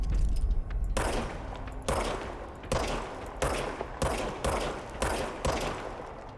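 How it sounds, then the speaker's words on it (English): Automatic machine gun fire from the video game Control comes in repeated loud bursts, each lasting under a second and separated by short breaks, close and sharp with no talking. "I've got a machine gun."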